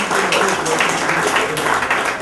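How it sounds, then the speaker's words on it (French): A diaspora audience at a Paris presentation applauds an artist. Steady, dense clapping fills the whole short stretch, fairly loud and even, with faint voices mixed in. "Est-ce qu'on peut commencer déjà par applaudir l'artiste qui est parmi nous?"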